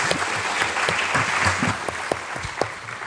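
Audience clapping at a round-table panel discussion during a science-culture congress, steady dense applause from a nearby crowd with a few sharper individual claps standing out, no talk over it.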